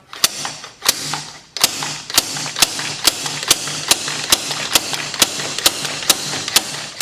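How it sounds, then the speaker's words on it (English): Sharp metallic bangs from a sliding hammer striking a Toyota intake manifold repeat at a steady, fairly quick rhythm, each strike ringing briefly, with a faint mechanical hum underneath and no talking. "Action of sliding hammer upwards, right? To lift that whole part up."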